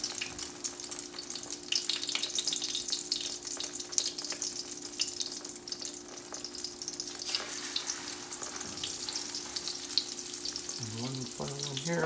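Eggplant slices fry in oil in a skillet for moussaka, with a dense, steady close sizzle throughout and a few light clinks and shifting sounds as the pieces are laid in.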